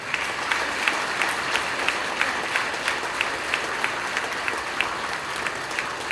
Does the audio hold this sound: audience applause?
yes